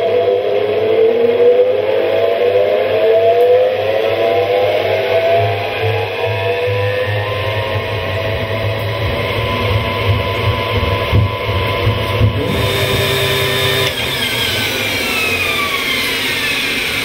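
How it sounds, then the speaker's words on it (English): An electric motor spins honey-filled frames at high speed in a beekeeping honey extractor, giving a steady mechanical whir and low hum that holds throughout without speech. "When the electric motor is switched on, the frames are spun at high speed."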